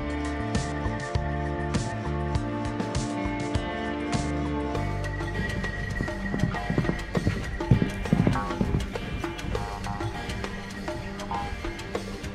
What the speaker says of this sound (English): I'm just trying to create a little draw here because Stark was so focused on my neighbor's horse.